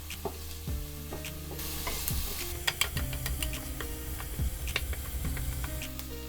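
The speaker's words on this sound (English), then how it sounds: "Cook the onion for a few minutes by itself to soften it," Onion and garlic sauté in a pan with a continuous crackling sizzle, and a utensil knocks and scrapes against the pan in repeated close, sharp taps while stirring.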